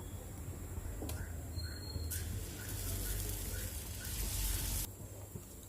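Green moong dal dosa batter hitting a hot dosa griddle, a steady broad sizzle that swells when the batter spreads and holds for a few seconds before dropping away, alone with a faint background hum.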